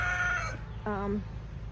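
A short clucking call from a chicken, then a second brief squawk, close by against a low background hum.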